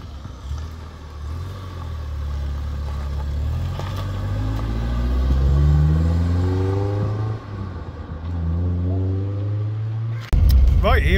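A 1979 Triumph Dolomite Sprint engine drones loudly from inside the car on a country road, its pitch climbing and dropping through repeated gear changes under a constant road rumble.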